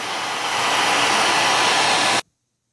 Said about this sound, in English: With a hair dryer, it takes a little longer.